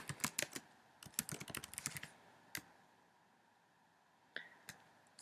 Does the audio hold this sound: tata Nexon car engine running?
no